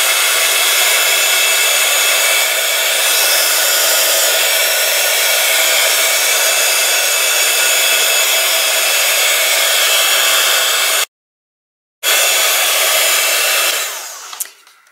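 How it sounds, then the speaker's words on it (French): A heat gun blows steadily over crackling paste on a craft piece, a loud continuous airy roar that cuts out briefly for about a second, resumes, then fades away at the end. "Je vais sécher avec le heat gun pour que ça aille bien dans les rainures"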